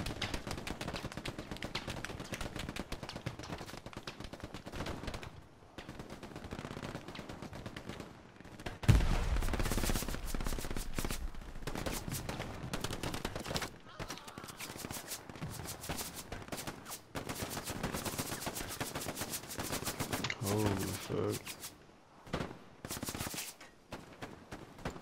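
Gunfire in the WWII shooter game Hell Let Loose: rapid machine-gun bursts and single rifle shots crackle, some near and some distant. There are short pauses between the bursts and one sharp, heavy blast partway through.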